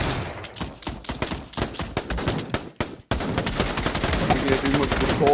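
Loud, close gunfire from the multiplayer shooter game Pavlov, played as Russian roulette. Rapid shots crack in quick succession, then merge into dense, sustained firing after a brief drop.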